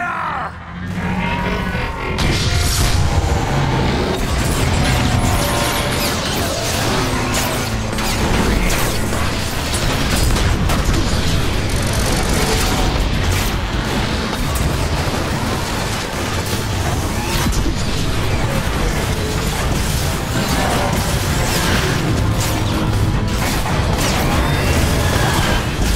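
Continuous loud barrage of weapons fire, mechanical clanking and booming explosions in a Transformers: War for Cybertron battle against Omega Supreme, dense and unbroken for the full stretch with occasional grunts.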